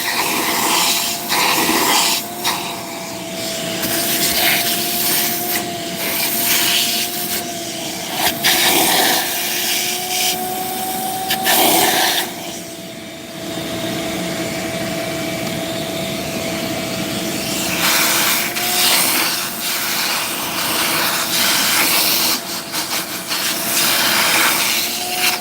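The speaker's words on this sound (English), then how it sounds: "Vacuum time, and we're done on this side" A shop vacuum cleans debris off the pistons of a 5.3 LS engine, a loud continuous roar with a steady whine that shifts slightly as the nozzle moves, running for the whole stretch without talk.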